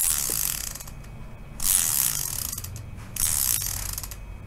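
A brand-new Weapon Animal PRO bicycle rear ratchet hub, still full of factory grease, ticks as its freewheel spins, giving a steady fine buzz of clicks that swells in two louder bursts.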